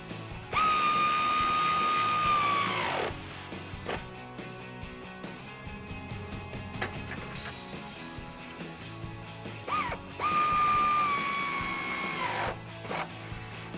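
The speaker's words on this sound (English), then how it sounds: "So we're going to use a 10 socket and 10 wrench to tighten those." A 10mm socket tightens bolts and nuts while fitting Black Horse Off Road Cutlass running boards to a Ram pickup. Two loud whirring tool bursts sit at the start and near the end, with clattering tool noise between them.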